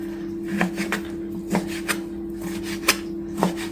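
A knife slicing pork on a board for Estonian Mulgikapsad with sauerkraut and barley, producing a series of soft, irregular cutting strokes and scrapes over a steady low electrical hum.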